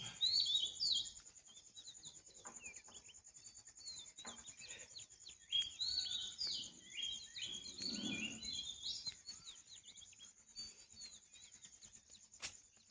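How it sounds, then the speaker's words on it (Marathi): Dawn birdsong at about quarter to six on a village road, many overlapping chirps and twitters in an unbroken chorus over a high insect hum, fairly close, with no voices. "पक्ष्यांचा आवाज किलबिलाट."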